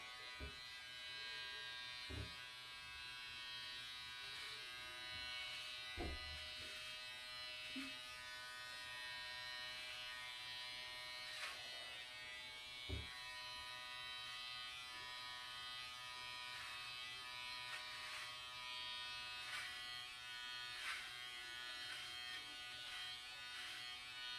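Electric hair clippers on a long blade setting buzz steadily throughout, with occasional faint clicks and soft bumps as they move.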